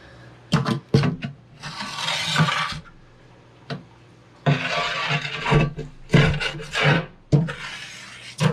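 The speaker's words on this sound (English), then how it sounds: "We're just gonna take our razor blade and start at one end and just literally push right across." A razor blade scrapes old silicone off the glass of an old, leaking 55-gallon aquarium, close, gritty rasping strokes repeated in separate pushes with short pauses and small clicks between them.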